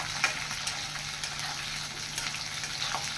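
Rohu fish pieces fry on full flame in a pan, a soft even sizzle with scattered crackling pops and light stirring ticks, fairly quiet and steady with no speech.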